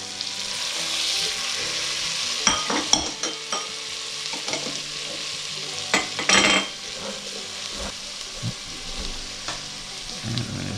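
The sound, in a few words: onions, celery and carrots sizzling in a pot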